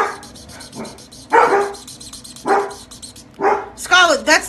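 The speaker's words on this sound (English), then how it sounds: "barking at the squeak of the marker" A dog barks repeatedly at the squeak of a marker during coloring, several sharp close barks and a yelping whine spaced across a few seconds, with a faint squeaking and someone talking between them.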